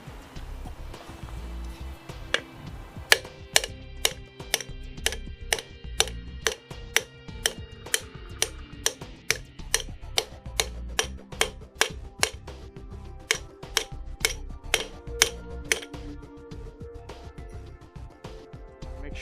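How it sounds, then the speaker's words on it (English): Hammer blows driving a freeze plug into a small-block Chevy engine block, a steady series of sharp metallic strikes spaced roughly half a second apart, close and clear over a quiet background. "Hammer it in there straight."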